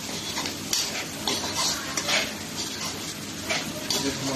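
Chopped garlic and ginger browning with onions in a pan, giving a soft steady sizzle broken by scraping and clinking as a utensil stirs against the pan, with faint voice in the background.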